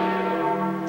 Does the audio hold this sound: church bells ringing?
yes